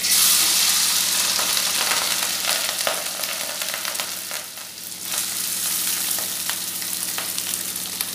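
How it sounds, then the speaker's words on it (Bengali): Rice coated with ginger, salt and turmeric sizzles in hot oil with whole cumin for yellow Bengali basanti pulao, a loud, steady, dense frying hiss with occasional crackles, close by and without talk. "এবারে বেশ ঝরঝরে করে চালগুলি ভেজে নেব"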